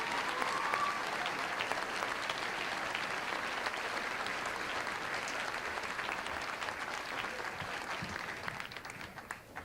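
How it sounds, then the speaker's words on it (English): Sustained applause from the audience at a junior high school graduation ceremony for the class of 1999, dense steady clapping filling the hall for the full stretch without a break. "Please give these outstanding individuals for Class 99 one more round of applause."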